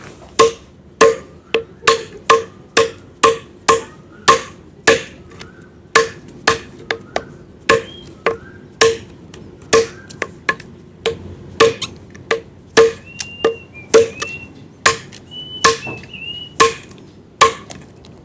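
A BG Knives N695 short Thai machete being hammered through its spine into tough kaffir lime wood, giving a steady run of sharp, loud, ringing strikes at close range, roughly one per half second.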